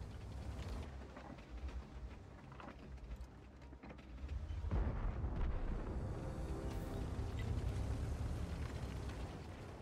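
A heavy IS tank blowing up in World of Tanks, a deep rumbling boom that swells and then holds as a sustained low roar of battle noise.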